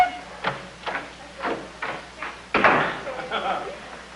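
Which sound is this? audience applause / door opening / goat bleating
door opening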